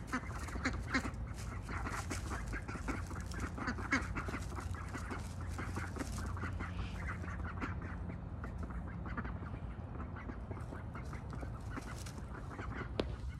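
Young khaki Campbell ducks, wing feathers still growing in, quack repeatedly in a busy, nearby chorus of overlapping calls.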